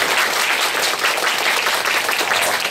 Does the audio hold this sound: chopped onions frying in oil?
no